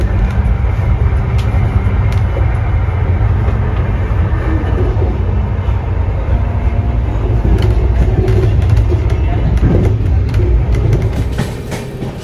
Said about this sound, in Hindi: ओवर टेकिंग कालका मेल बिफोर कानपुर।